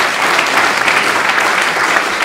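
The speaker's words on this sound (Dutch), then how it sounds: "Nog even één groot applaus zou ik zeggen voor alle kandidaten hier." Dense, sustained applause from an audience at a D66 party event presenting European election candidates, steady and loud for the whole stretch with no speech.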